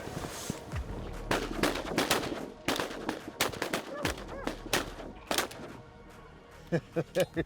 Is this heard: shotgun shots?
yes